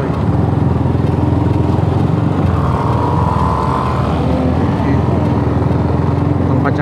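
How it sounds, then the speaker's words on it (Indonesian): Motorcycle running noisily on a street, a continuous close engine drone that swells briefly near the middle, with a voice talking under it. "Lagi nggak jelas tuh motornya nih, lagi arogan."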